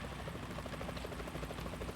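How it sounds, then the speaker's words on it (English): Helicopter in the Metal Gear video game approaching with a steady, continuous rotor thrum that fills the whole stretch at an even loudness, no voices over it. "Is that a chopper I just heard?"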